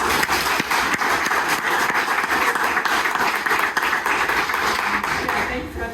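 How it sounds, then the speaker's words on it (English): An audience at a talk on building an app without code gives a big round of applause: dense, continuous clapping held at a steady level, tapering slightly at the close. "But can we give Carl a really big round of applause?"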